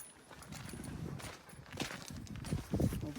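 Pack horse on a trailhead in the Uintas, walking with an irregular clip-clop of hooves on the ground, close and moderately loud, with a few faint scattered knocks and rustles.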